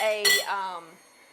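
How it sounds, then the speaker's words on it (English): A glass square baking pan clinks as it is handled in a kitchen, giving one bright ringing chime that lingers and fades within a second. "I use these square baking pans, and I'm using a glass one because that's what I have"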